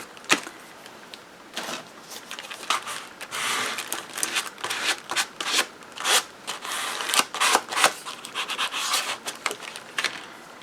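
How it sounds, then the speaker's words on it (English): Sheets of wax paper rustle and crinkle as they are slipped between the pages of a book, a run of close, dry crackles and soft paper swishes with no talk. "I'm just putting wax paper in between right now so the pages don't stick together"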